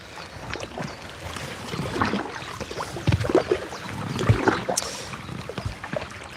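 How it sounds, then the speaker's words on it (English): Kayak paddle strokes dip and splash on a river in Belgium, with steady water swishing and some wind buffeting the microphone close by. "I'm kayaking here in Belgium"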